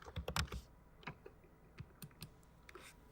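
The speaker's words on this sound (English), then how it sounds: "You know I love some aggressive ass typing." Aggressive typing on a keyboard: fast, sharp clicks in bursts, densest at the start and then scattered, close and quiet, with no voices.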